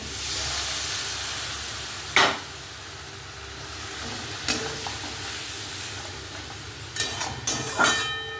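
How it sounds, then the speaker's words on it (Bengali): Masala spices frying in a pan with a little water, making a steady loud hiss and sizzle with a few brief scraping stirs, for a home-style katla fish curry in a village kitchen. "তো অল্প জল দিয়ে কষবো মশলাটা"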